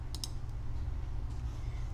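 A computer keyboard's keys clicking in a few quick taps, close and crisp, over a low steady background hum.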